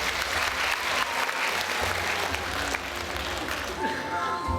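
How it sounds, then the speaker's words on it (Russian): An audience at a contest event in Khakassia gives a sustained burst of applause, a dense wash of clapping lasting a few seconds, with a voice faintly underneath. "Еще раз ваши аплодисменты."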